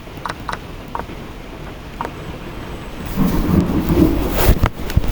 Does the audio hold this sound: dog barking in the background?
no